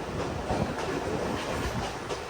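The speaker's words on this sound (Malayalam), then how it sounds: "പേൾ സിറ്റി എക്സ്പ്രസ് ആണിത്" Steady rumble of the Tuticorin–Chennai Egmore Pearl City Express at Chennai Egmore station, with rhythmic clacking wheels, continuous and fairly loud throughout, no voices.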